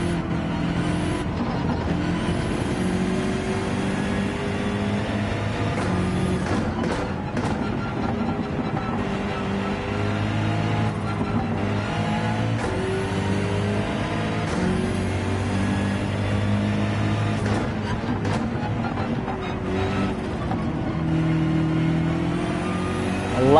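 A BMW race car in Gran Turismo 7 drones loudly and continuously, its engine note rising and falling through gear changes and corners, with no speech over it.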